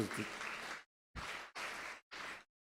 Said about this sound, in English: a great applause for his achievement as well.